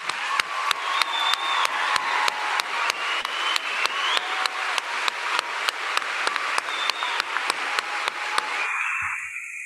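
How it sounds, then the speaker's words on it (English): An audience at a middle school promotion ceremony claps steadily with a regular, rhythmic beat running through the applause, which stops abruptly near the end. "Give them a round of applause."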